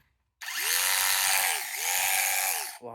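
A 12-volt cordless power tool whirs up from silence into a steady high-pitched motor whine, dips briefly, spins again, then cuts off, close and alone.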